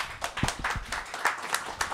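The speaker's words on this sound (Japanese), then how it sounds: "これ拍手してるけど" Scattered audience clapping at an SF new-writer award selection event as a prize winner is announced, a loose irregular patter of separate claps at moderate volume.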